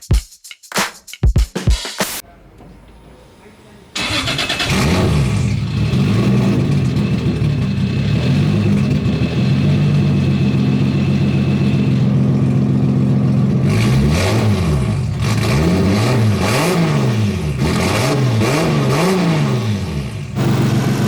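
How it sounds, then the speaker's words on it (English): A 2JZ-swapped Nissan S14 in a small home garage fires up after a brief quiet stretch, idles loudly and close by, then gets revved in a series of rising and falling bursts before settling again. "I'm gonna push the car out, might run it a little bit, make sure that the coolant and idle, everything is all still good"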